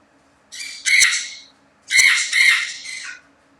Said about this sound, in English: Therefore, the bird is going crazy.